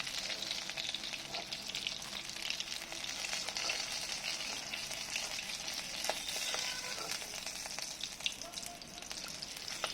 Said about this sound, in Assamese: মাছ ধুনীয়াকৈ ফ্ৰাই হৈ গ'ল, দুই পিঠি ধুনীয়াকৈ ফ্ৰাই হৈ গ'ল।